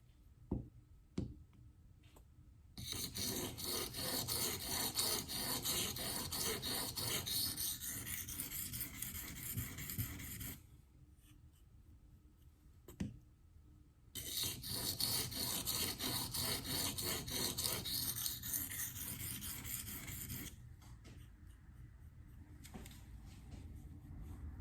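S110V steel knife blade being sharpened on a 400-grit diamond stone, two long stretches of rapid rhythmic scraping strokes close up, separated by quiet pauses with light clicks and no talk.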